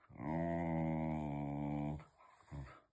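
A dog makes a drawn-out, tonal groaning growl while eating, loud and close for about two seconds, followed by a shorter grunt.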